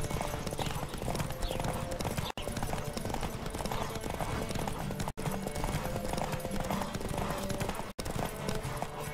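Rapid rhythmic hoofbeats of a galloping horse in The Witcher 3: Wild Hunt, steady and driving, over a dense game soundscape with brief dropouts.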